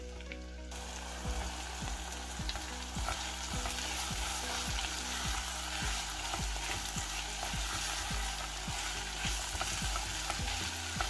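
Onions fry in about two tablespoons of vegetable oil in a hot pan, giving a steady, close sizzle with regular scraping stirs throughout.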